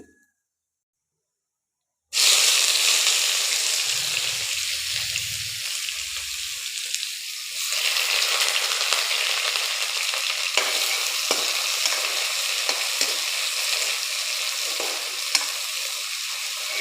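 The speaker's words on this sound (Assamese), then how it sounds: "এতিয়া মই ইয়াত পিঁয়াজ দি দিম।" Onions tossed into hot oil after dried red chillies, a sudden loud hiss that settles into a dense, continuous sizzle close by, with faint stirring clinks and brief low thumps early on.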